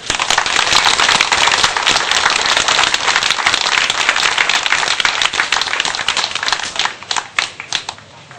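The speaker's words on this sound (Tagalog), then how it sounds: "Bilang pasasalamat ni Tata Pitong, maaari po natin ibigay sa kanya ang pinakamalakas na palakpak." Loud, dense crowd applause fills an evening gathering, clapping given in thanks to an honored elder, holding strong for several seconds before breaking into scattered, uneven claps as it dies away.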